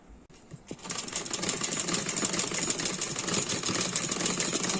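A sewing machine runs continuously, stitching a child's side-plate frock, with a fast, even mechanical whir and rattle starting after a brief pause, close and loud.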